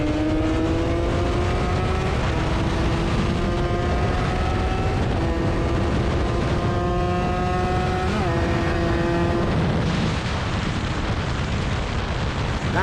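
Kawasaki Ninja two-stroke motorcycle racing over a 5 km run, its engine loud and close in a constant high-pitched buzz, revs climbing and dropping through several gear changes under steady wind noise, then roughening near the end.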